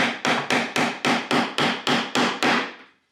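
Ten sharp, evenly spaced hammer blows drive nails into a cedar picket birdhouse, each strike a crisp woody knock with a short ring, close and loud with no talking.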